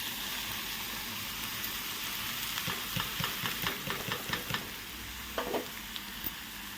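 Chopped papaya tossed into a pan of browned cumin seeds sizzles softly, with a run of sharper crackles and stirring taps through the middle and a brief flare near the end.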